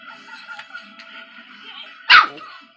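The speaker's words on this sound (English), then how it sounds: "No barking." A dog gives a single sharp, close bark after a stretch of faint whimpering and yipping in a quiet room.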